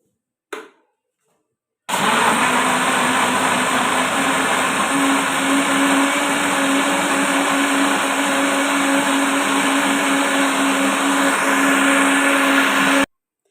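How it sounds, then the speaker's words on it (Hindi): A blender whirs steadily as it blends banana, strawberry and almond milk into a smoothie, loud and continuous for about eleven seconds after a brief click at the start, with no voices. "अब हम इसे अच्छे से ब्लेंड कर लेंगे।"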